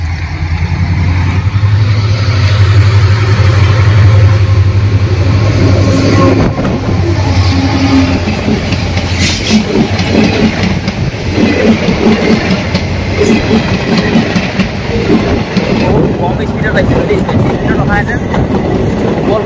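A train rumbles past at close range, a steady loud roar of wheels and carriages with rhythmic clatter, voices talking over it.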